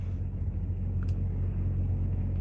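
Truck engine rumbling steadily from inside the cab while driving, a low continuous drone with no voices.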